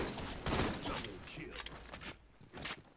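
Gunfire in Halo: The Master Chief Collection, a scatter of sharp shots and short rapid bursts, fairly faint and somewhat distant, with some voice chatter underneath.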